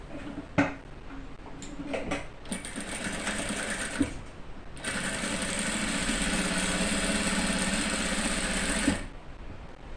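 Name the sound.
sewing machine stitching a seam with presser foot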